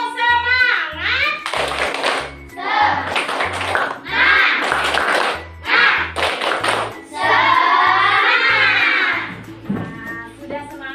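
Students in an Indonesian classroom perform a rhythmic group clapping routine, with sharp, steady claps in a patterned beat alternating with children's chanted voices, loud and close.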